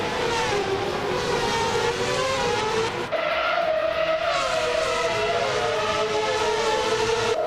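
2009 Force India VJM02 Formula One cars roaring at a race start at Enna-Pergusa in a racing game, a dense, loud pack of engine whines with pitches sliding up through gear changes, continuous and without talk.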